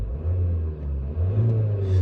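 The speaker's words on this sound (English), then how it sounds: "Engine sounds sweet." Engine of a Vauxhall seven-seat MPV family car idling with a steady low rumble, then revving up and holding higher, heard close and loud with no talking.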